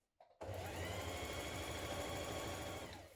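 A sewing machine runs steadily for about three seconds, stitching the inside leg seam of a pair of trousers with a 1.5 cm seam allowance. The whirring is close and continuous and starts after a brief click.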